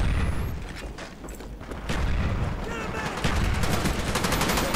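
Grenade blasts and rapid gunfire from a Call of Duty: Black Ops multiplayer match on Nuketown, a dense continuous barrage of shots and booms filling the whole stretch at steady loudness.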